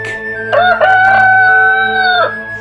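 A rooster sounds one loud, close cock-a-doodle-doo crow lasting about two seconds, with faint background hum before and after.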